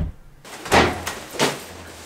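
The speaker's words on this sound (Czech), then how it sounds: "Zavři ty dveře!" A door is pushed shut indoors in a home, with a dull thud and a second knock-like impact a moment later, heard alone without speech.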